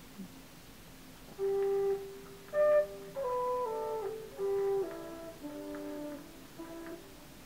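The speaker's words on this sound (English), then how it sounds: "that kind of low flute sound, which you're going to solo it in Reason" Low, breathy flute-like sample from a classical record, pitched about two octaves down and soloed, plays a slow phrase of sustained notes, moderately loud against a faint hiss.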